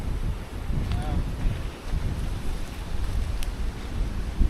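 Strong wind buffets a wild campsite deep in the jungle, a constant roaring rush with gusty swells and microphone buffeting, and a faint voice briefly underneath.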